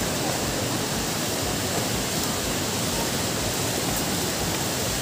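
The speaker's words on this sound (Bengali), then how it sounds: "এত ওপর থেকে জল পড়ছে" Water from a waterfall plunging from a great height near Zuluk in Sikkim, a steady dense roar of splashing spray heard close by, loud and unbroken throughout with no talk.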